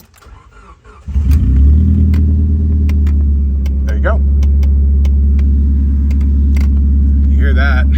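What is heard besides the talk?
Rambler American car engine starting and running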